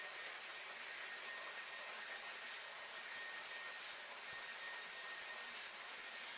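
Dyson Airwrap hair styler running with the firm smoothing brush attachment, a loud steady high-pitched airflow whoosh held close and unbroken throughout, with no voices.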